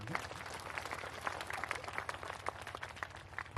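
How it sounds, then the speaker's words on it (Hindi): Congregation clapping at a church ceremony for a priest's first Mass, a steady patter of many hands with a low hum beneath, fairly even throughout and no one talking over it. "ताली बजाते रहेंगे।"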